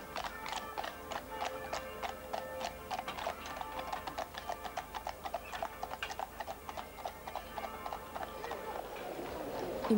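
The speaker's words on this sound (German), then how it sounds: "Dann wird umgeladen auf Pferdefuhrwerke oder Radanhänger." Horse-drawn carts move through a car-free village, hooves clip-clopping in a steady rhythm on hard ground for the whole stretch, moderately near, with faint voices underneath.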